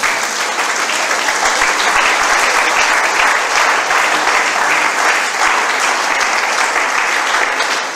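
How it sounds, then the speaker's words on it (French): Sustained, dense applause from a seminar audience fills the room, steady and loud from start to finish with no break. "Applaudis mon Dieu, ça se comprend."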